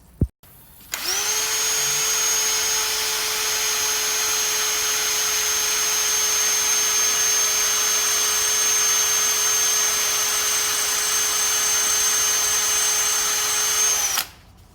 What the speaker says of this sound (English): I'm gonna drill it more though.